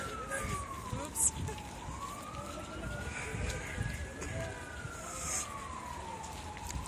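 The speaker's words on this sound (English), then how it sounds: "So we can hear sirens in the background." Police sirens wail in the distance during a May Day protest in Montreal, a slow rising and falling tone drifting under faint background noise and occasional clatter.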